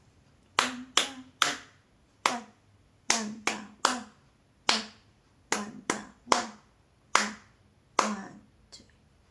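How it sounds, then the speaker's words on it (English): Sharp hand claps tapping out a steady rhythm of two eighth notes and two quarter notes, pairs of quick claps alternating with single ones, close and crisp, with a voice counting briefly. "If you can clap the rhythm after I play, that would be great."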